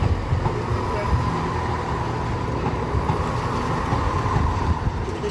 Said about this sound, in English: The train pulling into Lincoln was actually my train